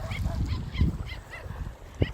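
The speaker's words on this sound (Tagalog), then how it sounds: "Ayan, daming aso." Several dogs bark in short repeated bursts on a farm, fairly close, with some overlapping yelps and a low rumble of background noise.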